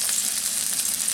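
Garlic hitting hot oil in a pan during egg curry cooking, a steady bright hiss of sizzling and frying, loud and close without pause.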